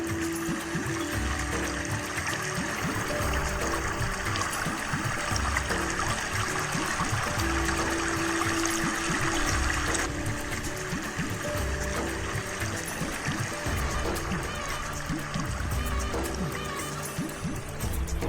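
Water flowing steadily in a river near a hidden waterfall beside rice paddies, a continuous broadband rush with small trickling details, heard alone and fairly close throughout.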